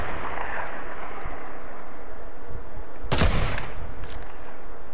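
Gunfire in a shooter video game on a desert zone wars map: one sharp, loud burst of shots stands out midway over a dense, noisy backdrop of distant firing and game sound, with no talking.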